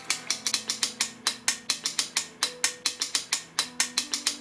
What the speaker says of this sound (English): then slowly let the spring winder run down, holding the mainspring clamp in the center of the spring